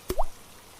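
A single water drop lands with a short, bright plop and brief upward ring, followed by near silence, like rain dripping through a broken roof into a house on a cold night.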